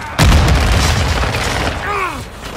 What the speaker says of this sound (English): Frag out! Throwing stick!